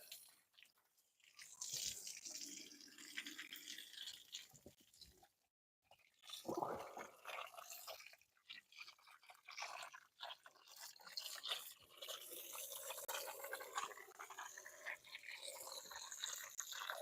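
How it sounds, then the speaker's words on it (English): Water spraying and splashing over the door jambs and gas cap of a Chevy Colorado pickup during an exterior detail, a close, steady hiss with dripping and brief pauses between bursts. "rinse out our door jambs real quick and our gas cap"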